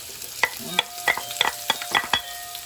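Ginger and onion frying in a pan for Bicol Express, a faint sizzle broken by a rapid series of sharp stirring clinks and scrapes, close by and with no talk.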